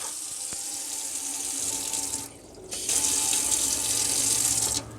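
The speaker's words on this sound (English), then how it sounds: "I've put the pump on, which we prime up" A campervan water pump being primed pushes water through, making a steady rushing flow like a running tap. The flow stops briefly partway through, then surges back louder before dropping off at the end.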